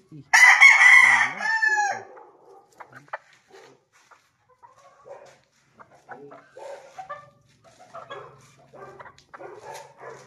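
A McLean Hatch gamefowl rooster lets out a loud, close crow at the start, then soft clucks, scattered bird noises and faint barking carry on more quietly.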